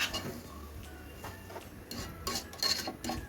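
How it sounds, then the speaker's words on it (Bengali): Sugar and vermicelli being stirred in a metal pan for red semai, with repeated scraping and clinking strokes of a spoon against the pan, close and fairly quiet, with no talk. "উল্টা পাল্টা চিনিগুলো একবারে ভালোভাবে মিশে যাওয়ার মতো একটু কষিয়ে নেব ভালো করে।"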